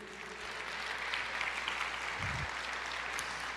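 A church congregation applauds during a sermon, making a faint, steady wash of clapping that sounds distant and spread out, with no voices over it.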